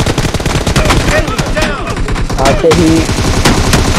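Rapid gunfire from drop shots in a mobile team deathmatch shooter, dense bursts of shots running throughout at close range under excited commentary.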